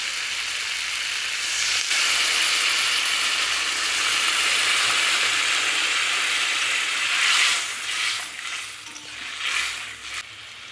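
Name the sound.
fish curry with green tomato boiling in pan after adding water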